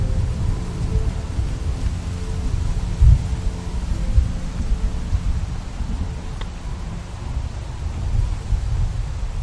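A thunderstorm rolls in with steady rain and a deep, low rumble of thunder, plus one brief sharp crack near the middle, all continuous and moderately loud with no talking.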